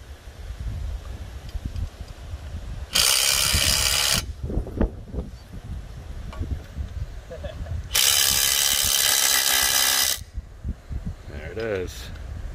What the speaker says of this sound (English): we go over everything with a torque wrench, make sure everything's torqued to spec